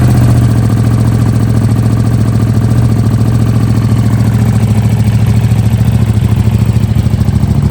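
A KTM RC8 R sport motorcycle engine idles loud and close after warming up, with a steady, even rumbling pulse that runs without a break.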